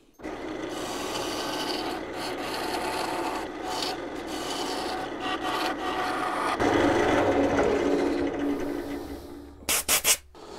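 Lathe tool taking light cuts inside a segmented wooden vase, a continuous scraping, rasping whir with fluctuating intensity, growing louder and rougher partway through before a few short bursts near the end.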